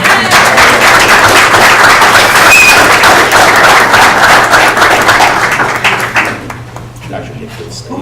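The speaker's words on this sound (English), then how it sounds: "We might as well give them a round of applause." A board meeting audience claps for counselors and staff in a round of applause, dense and steady for about six seconds before thinning out, with a low hum underneath.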